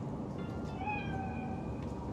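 A cat meows in the video game Cyberpunk 2077, one drawn-out, wavering meow rising over a steady background hum of in-game ambience.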